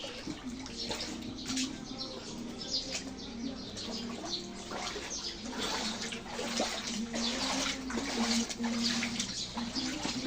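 Floodwater after a typhoon and heavy rain trickles and splashes steadily around a rural home with crops, a soft continuous flow with faint birds chirping in the background.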